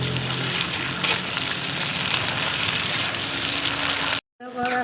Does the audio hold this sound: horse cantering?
no